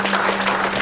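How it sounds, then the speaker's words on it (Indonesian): Applause from an audience at a public dialogue on terrorism prevention with religious leaders in Jakarta, heard as a brief, steady wash of clapping, moderately loud and continuous, with a low hum underneath. "Tepuk tangan untuk Bapak Ibu semua."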